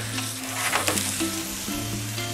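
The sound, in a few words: pizza crust sizzling in a hot pan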